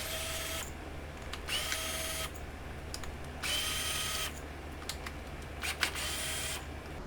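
Bursts of a power tool or ratchet backing out 10mm bolts on the engine cover of a Mitsubishi Lancer Evo X, several separate runs with quiet gaps and small clicks between, close up.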